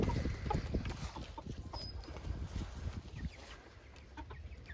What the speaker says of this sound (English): there's 11 chickens in the coop waiting to come out in the morning